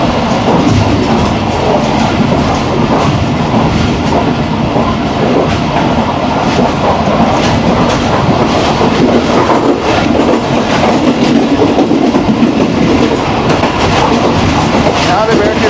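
Pakistan Railways train running fast past a station, a steady loud rumble of wheels and carriages with rhythmic clickety-clack, heard from inside a guard cabin with faint speech mixed in.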